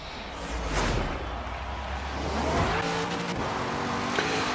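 Engine roar and tire squeal from a car on a flying lap around a track in the racing game Forza Horizon 3, a steady loud drone with a gear change, skidding whine and shifting pitch, heard alone without talk.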